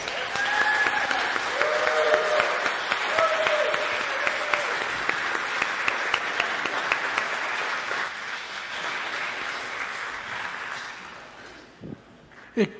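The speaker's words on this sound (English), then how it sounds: "we need to give Chuck and the board a round of applause" A room of people gives Chuck and the board a sustained round of applause, thick steady clapping that gradually thins and fades out, with a couple of sharp knocks at the very end.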